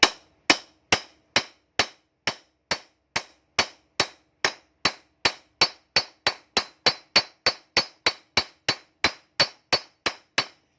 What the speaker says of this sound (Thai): ใช้ค้อนแค่นี้แหละไม่ต้องใช้ค้อนปอนนะครับ